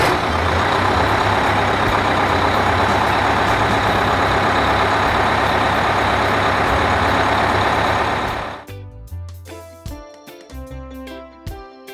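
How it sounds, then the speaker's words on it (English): A big rocket trailer truck rumbles loudly and steadily for about eight seconds with a deep engine drone, then cuts off abruptly and gives way to scattered softer knocks. "Rocket trailer truck."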